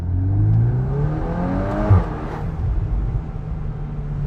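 A 2024 VW Golf 8 R Performance Pack with a 320 PS engine and DSG gearbox accelerates hard, a loud steady engine drone rising in pitch through the gears with a quick shift partway through, heard from inside the car.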